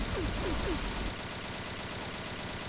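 Shotgun fire in the shooter game XSHOT (Ex 8.5 shotgun, PVE mode): a rapid series of muffled blasts in the first second over dense, constant game noise and music.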